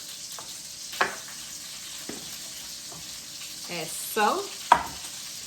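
Mushrooms being stirred in a frying pan give a soft sizzle, with a few sharp scrapes and clinks of a utensil against the pan, close by, and brief quiet speech in between.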